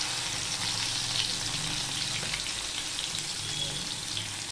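Crushed garlic cloves frying in hot oil over tempered spices while cooking spinach, a steady close-up sizzle with faint crackles running unbroken throughout.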